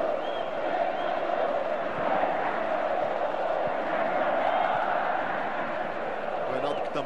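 Packed Morumbi stadium crowd of São Paulo supporters at a 2002 Paulista championship final roars in a steady, dense wash of voices, loud and sustained throughout with no break.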